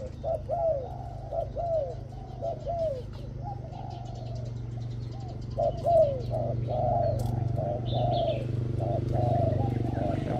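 A Thai decoy spotted dove called Dong Fai, an old caged bird, coos in a full, rich voice, repeating short rhythmic phrases close by over a steady low background hum.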